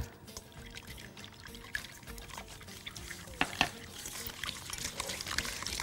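Milk poured into a kitchen mix with sugar while making a tiramisu-style French toast with instant coffee, a steady low liquid pour running throughout with a few sharp clinks and knocks.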